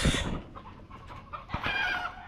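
Chickens on a small egg farm cluck and call throughout, with a brief crow-like burst near the start, fairly close and continuous over low background noise.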